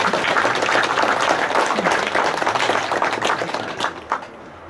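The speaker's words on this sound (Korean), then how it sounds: "대표로 고생하셨다고 박수 한번 더 부탁드립니다." Loud, full audience applause at a Korean clan commemorative event honoring a family representative, sustained and dense before thinning into a few scattered claps near the end.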